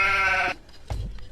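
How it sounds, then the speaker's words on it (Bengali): A goat bleats once, loud and close, while being fed, then quieter rustling and soft thuds follow. "না ছাগলা খাবার দিই।"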